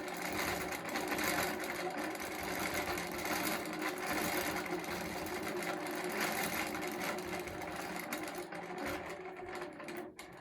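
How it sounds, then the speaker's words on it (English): A sewing machine stitches a label onto a quilt with a steady, continuous rapid mechanical whir and rattle, close and even throughout, slowing and stopping at the very end. "if I sew over it with the pattern"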